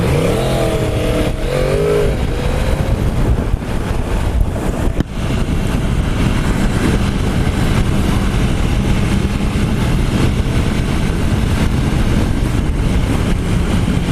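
A 2016 Yamaha YZF R1 sport motorcycle engine on a ride, revving up and shifting with a loud, steady roar under strong wind buffeting on the microphone.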